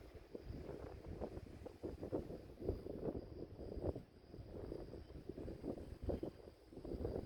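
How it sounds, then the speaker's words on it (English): Strong wind gusts buffet the microphone at an outdoor shooting range, a steady low roar with irregular surges throughout. "wind going kind of crazy"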